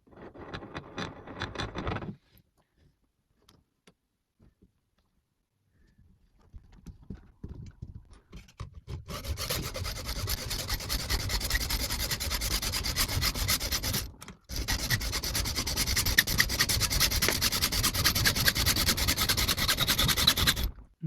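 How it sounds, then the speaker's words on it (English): A hacksaw cuts a piece of aluminium shim held in a steerer tube cutting guide for a bike quill stem adaptor, loud close rasping strokes running in a continuous back-and-forth rhythm with one brief pause, after a few quieter scrapes and handling noises. "I'm actually just going to use my steerer tube cutting guide to cut this bit of shim"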